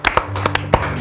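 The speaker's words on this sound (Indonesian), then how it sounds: "Tepuk tangan dulu dong." Brief burst of a few sharp hand claps in a TVRI Central Sulawesi studio in Palu, close and loud over a soft tonal background.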